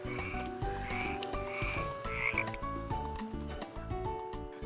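Frogs or toads croak repeatedly in a rural countryside setting, a steady chorus of low rhythmic calls layered with insect buzz and a constant high whine, continuous throughout.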